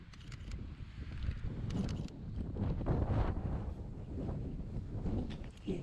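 Wind gusts steadily through an outdoor junkyard of old Chevys, wagons, Oldsmobiles and Pontiacs, a broad rushing noise that swells and eases, with faint clicks and knocks on top and no talk.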